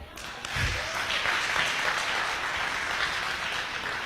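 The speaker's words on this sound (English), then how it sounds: "Are we going to clap or not?" An audience at a Bobi Wine community gathering in Seattle bursts into steady, sustained applause, a dense wash of many hands clapping from a crowd, continuing evenly after a brief lead-in.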